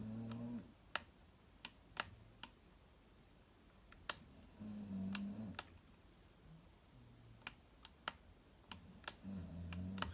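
Chubb 3K70 or 3G114 safe lock dial being turned by hand, giving sharp, separate clicks spaced irregularly over a quiet background, with faint low rumbles in between and no speech.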